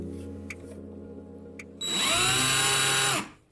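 A low hum gives way to a power drill whirring at high speed for over a second, loud and close, then winding down, with a screwdriver bit held in its chuck.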